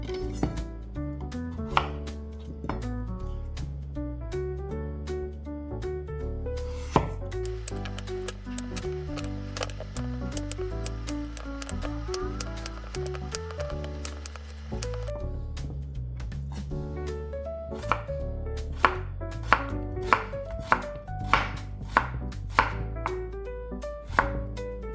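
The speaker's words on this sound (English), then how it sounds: "first we need to cut the radish" A knife chops radish on a cutting board in a steady run of crisp, close knocks, with a denser burst midway, over continuous background music.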